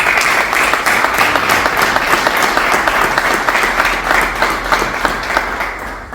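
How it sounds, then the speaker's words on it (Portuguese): Sustained applause from a crowd at the inauguration of the requalified urban ring road in Vizela, honoring Dr. Francisco Ferreira; dense, steady clapping fills the whole stretch at close range with no talk over it. "eu pedia uma grande salva de palmas para o Dr. Francisco Ferreira"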